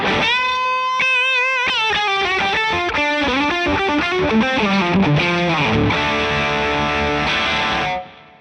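An electric guitar driven by a Plumes overdrive pedal plays a singing, sustained lead phrase with slides and bends, ending on a held chord that cuts off.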